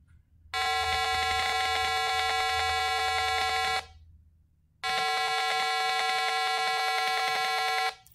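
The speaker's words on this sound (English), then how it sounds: "It's generating, or it will be generating, a 150 Hertz square wave. And because of that square wave, this buzzer will generate some different kind of audio." A simulated Arduino buzzer fed a 150 Hz square wave sounds two long, harsh, steady buzzing tones of about three seconds each, separated by a short gap, loud and alone.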